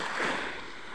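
Sea waves washing along a beach, a broad rushing surge that swells and then settles, heard close with wind-like hiss and no talking.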